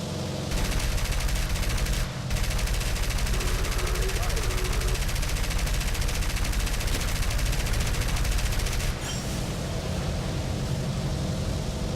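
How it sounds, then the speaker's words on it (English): Aircraft machine gun fire in the air-combat game War Thunder, a dense, continuous loud burst running for most of the stretch with brief breaks, over steady engine drone while someone talks. "Oops, and I'm out of machine gun ammo."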